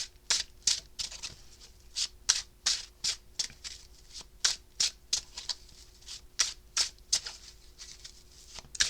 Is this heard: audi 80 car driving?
no